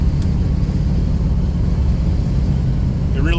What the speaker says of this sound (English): And now the exhaust, you know, does what the exhaust is supposed to do.